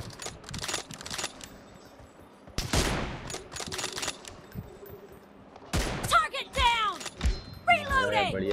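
Gunfire in the PUBG Mobile battle royale game: clustered bursts of rapid shots across several seconds, loud and close, with players talking excitedly over the fire.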